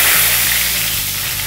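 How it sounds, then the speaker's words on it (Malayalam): Curry leaves hit hot oil already crackling with mustard seeds and fenugreek, setting off a loud, dense sizzle that carries on evenly with no voices. "വേപ്പില ഊരി ഇതിലേക്കിടാം."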